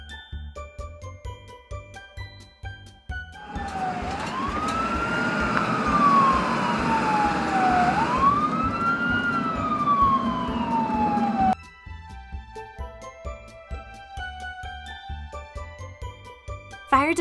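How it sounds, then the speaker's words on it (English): Ambulance siren wailing loudly in rising and falling sweeps for about eight seconds, set between stretches of light jingling children's music. "Ambulance."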